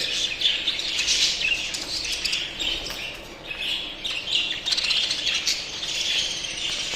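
Jumbo budgerigars chirp and twitter in busy, overlapping bursts. The chatter is fairly loud and near and keeps going without a break, with no speech over it.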